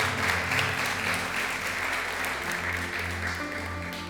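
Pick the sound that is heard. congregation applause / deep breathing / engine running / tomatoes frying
congregation applause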